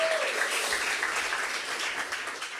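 Applause rings out from a church congregation, a thick, continuous patter of many hands clapping at a steady level across the short stretch, with no talking.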